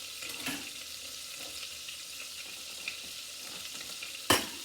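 Meat browns in a hot pan in a home kitchen, making a constant close hiss of sizzling fat. A few faint pops come through, and a sharp clatter sounds near the end, with no speech.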